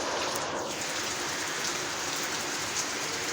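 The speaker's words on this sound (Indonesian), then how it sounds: "Hujan." Steady rain hisses down on a surface in an outdoor yard where a motorbike is being washed, a dense even patter filling the short stretch with no voices.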